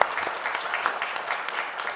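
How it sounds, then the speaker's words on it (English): Audience applause for a young MC at a Korea-Middle East cooperation forum, a brief, fairly faint patter of clapping from a seated crowd. "Could we give her a warm round of applause?"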